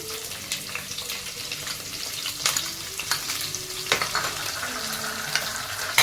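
Chopped green onions sizzle in oil in a pan while a utensil stirs them, giving a bright continuous frying hiss broken by repeated scraping strokes and clicks, close and fairly loud.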